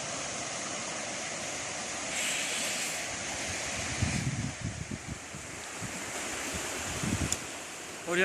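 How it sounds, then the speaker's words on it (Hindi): Steady rushing canal water fills the scene in jungle near Sialkot, broad and continuous like a flowing channel, with wind buffeting the microphone and a few low thumps. "ये देखें बिल्कुल ये नहर का पानी जो इसका बहाव चेक कर रहे हैं आप"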